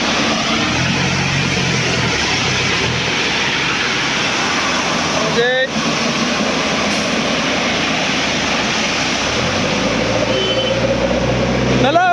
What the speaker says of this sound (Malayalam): ഇതാണ്ടോ വണ്ടി പോകുന്നത്